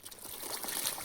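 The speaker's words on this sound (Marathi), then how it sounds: "आता चला टाकू फवारणीमध्ये." Pesticide liquid poured into a sprayer tank on a farm field, a brief close trickling splash that runs steadily for about a second with no voices.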